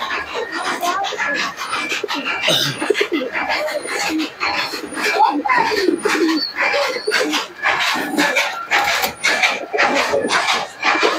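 Teddy pigeons, a Chinese-line breed, coo in a busy loft, their calls layered over one another steadily throughout amid general bird chatter and background voices.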